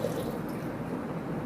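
Water pours into a pot for sanamakki kahwa in a home kitchen, a steady close rushing stream with no break.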